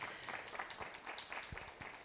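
An audience gives a round of applause for the speakers at an event, a steady, moderately loud wash of clapping that holds throughout the short stretch.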